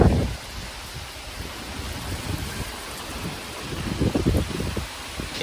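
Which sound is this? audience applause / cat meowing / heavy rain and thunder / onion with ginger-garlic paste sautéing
heavy rain and thunder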